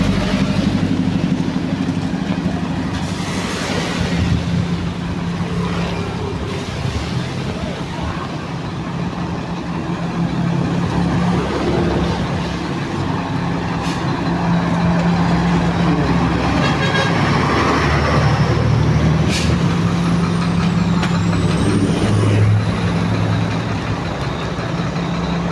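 Steady road traffic of cars and trucks idling and creeping along a flooded highway during a typhoon in the Philippines, with a continuous low engine rumble, an occasional horn toot, and no talk.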